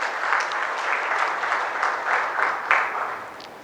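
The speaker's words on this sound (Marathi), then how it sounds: "आपण सर्व टाळ्या वाजवून स्वागत करूया" Audience applause at a centenary celebration of the Shri Va Phatak library, steady dense clapping from a crowd welcoming the library staff and committee, sustained at even loudness throughout.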